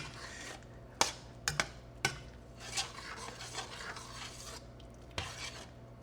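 A spoon scrapes and clanks against a pot of beef tallow from brisket trimmings, with sharp metallic knocks and steady stirring over a soft background hiss.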